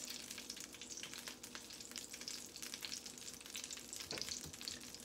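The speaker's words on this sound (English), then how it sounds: "What you wanna do is you wanna sear this on both sides" Salmon sears in a pan over medium-high heat with a soft, steady sizzle and crackle, quiet and close, with occasional small spatters and no voices.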